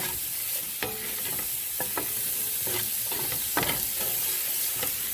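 Onions browning in a pan for a Guinness stew, a steady close sizzle with stirring scrapes and soft clicks from the utensil, heard alone without speech.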